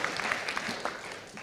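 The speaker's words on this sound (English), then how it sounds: "So a big round of applause." Brief, faint applause from an audience at a Romanian business services forum and awards event, soft scattered clapping heard at a distance for a moment.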